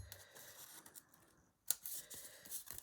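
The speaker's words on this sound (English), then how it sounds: "I'm just going to take my scissors and I'm going to cut a straight line into where the die cutting stopped" A few crisp scissor snips cutting a straight line through layered paper where the die cutting stopped, close and quiet, with small handling rustles between cuts.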